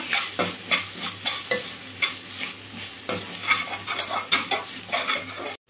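Ginger garlic paste fries in a pan with a close, crackling sizzle, while a spoon scrapes and stirs in a quick, regular rhythm. No one speaks.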